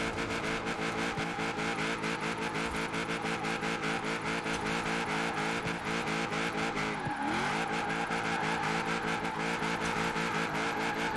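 A car in the Forza Horizon 4 racing game drifts and spins out, its engine droning loudly and steadily with sustained tire squeal and a brief dip in pitch partway through.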